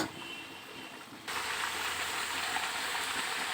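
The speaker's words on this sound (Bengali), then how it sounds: "ঢাকনা সরিয়ে নিয়ে মাংসটা কষানো হচ্ছে" Mutton sizzling in a pan for kala bhuna, being braised after the lid is lifted; a steady, close crackling fry starts abruptly and holds loud and even to the end.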